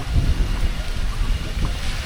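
Strong wind buffets the microphone with a low, steady rumble while sea waves wash in the background on Boracay Island.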